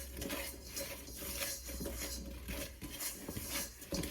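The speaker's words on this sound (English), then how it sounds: "take the dough balls and throw them in the bowl and just mix them around" Dough balls stirred around in a bowl of cinnamon sugar for monkey bread, a close, continuous scraping and rattling with soft clinks, moderately quiet and with no talking.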